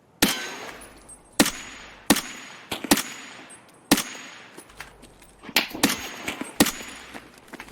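Gunfire in the video game Escape From Tarkov: sharp, loud shots ring out in irregular bursts and single cracks, roughly a dozen reports spread across the stretch with short echoing tails, no talk over them.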